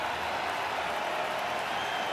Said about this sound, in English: Now the sellout crowd on its feet.